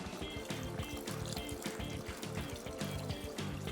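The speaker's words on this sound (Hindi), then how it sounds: "थोड़ा सा और पानी डाल देते हैं।" Water poured into a simmering tomato sauce for Bologna tagliatelle, a steady close trickling and bubbling flow with no talking.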